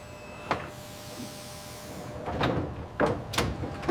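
A large sliding door at an aircraft factory loading dock rolls and thuds several times. Short heavy bangs and rumbling slides come close, over a low industrial hum with no talking.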